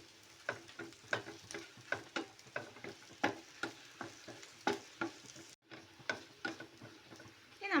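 Curry leaves sautéed in a pan for a mushroom masala, rhythmic scraping stirs of a utensil over a soft sizzle, close and regular, with one brief break, and no voices.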